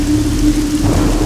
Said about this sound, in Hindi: इतनी बारिश क्यों हो रही है?